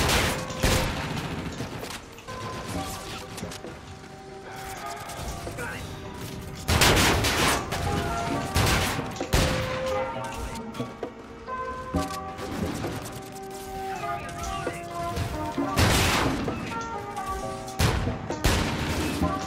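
Repeated gunfire in a shooter video game: bursts of shots and sharper bangs recur throughout, layered over music-like tones and game effects, with occasional voices underneath.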